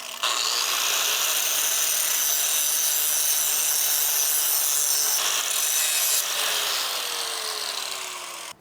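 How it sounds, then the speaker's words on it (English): A power tool bevels the top edge of a steel front bumper plate during a 4th gen Toyota 4Runner bumper build, a loud steady grinding rasp running continuously for about eight seconds with a brief shift in tone midway, then tapering off. "So I'll go ahead and bevel the top of plate 9 a little bit,"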